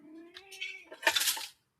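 A cat meows once, a drawn-out tonal cry that breaks into a harsher, louder yowl before cutting off to silence, close and clear with no talk over it.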